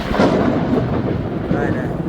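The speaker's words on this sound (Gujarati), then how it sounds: "અહીંયા વીજળી થાય છે જો" Thunder rumbles loud and close during a heavy monsoon rainstorm with lightning, a broad rolling roar that fills the whole stretch while voices speak faintly underneath.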